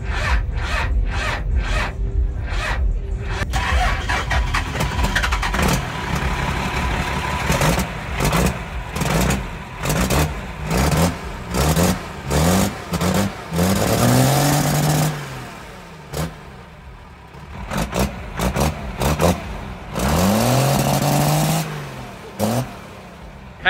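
A lifted diesel truck at a Texas truck show cranks and fires up, then revs hard in a string of rapid, loud throttle blips and longer pulls, close by and dominating the scene.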